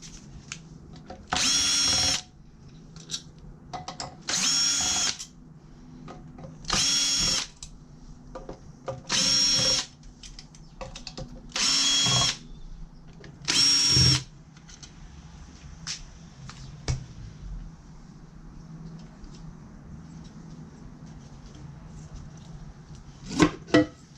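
A power drill backs torque screws out of the top of a remote radio unit, six loud whirring bursts in a steady rhythm about two seconds apart, close up, followed by quieter handling clatter and a couple of sharp knocks.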